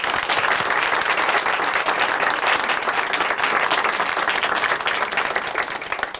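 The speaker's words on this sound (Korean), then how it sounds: "앞으로 형제님의 삶도 박수로 함께 응원해 드리도록 하겠습니다." Studio audience at a church television program breaking into dense, sustained applause, loud and close, tapering slightly near the end.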